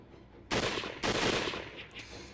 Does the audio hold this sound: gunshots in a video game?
yes